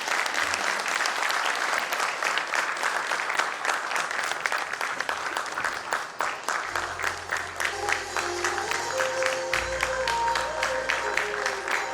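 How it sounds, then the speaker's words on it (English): An audience at a convention hall summit claps steadily in a dense, sustained round of applause, with a low hum and a faint tone entering partway through. "A round of applause, I guess he deserves a lot."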